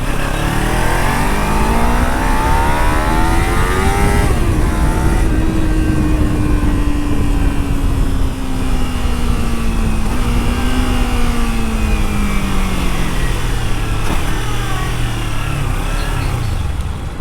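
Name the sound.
Kawasaki Ninja 300 two-cylinder engine, stock exhaust, revving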